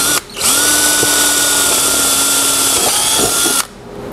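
A power drill drives quarter-inch lag bolts into a shop chair, whining loud and steady close by for about three seconds before spinning down.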